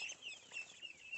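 Chickens in a lit coop cluck softly in a few short, faint calls, heard alone at low volume.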